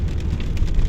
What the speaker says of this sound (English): As you can see, it's still raining,